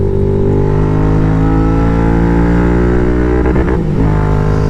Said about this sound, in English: That is the rev limiter.